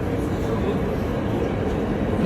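An Istanbul metro train rolls in and comes to a halt, a low, steady rumble of wheels and carriage noise filling the short stretch at close range.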